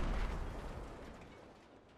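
A grenade explosion in the video game Fortnite, a single deep boom that rolls off into a fading rumble over two seconds, fairly faint and heard alone.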